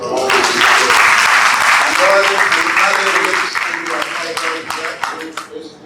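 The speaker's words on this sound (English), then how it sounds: "A round of applause for all of you." A loud, dense round of applause from an audience at a film screening and discussion, sustained and then thinning into scattered claps, with voices talking over it.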